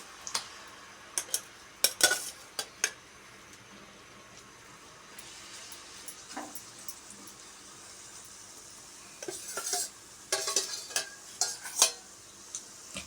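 Watermelon rind pieces are stirred in sugar syrup in a pot for tutti frutti, with scattered close scrapes and clinks of a spoon against the pan over a faint bubbling sizzle, no talking.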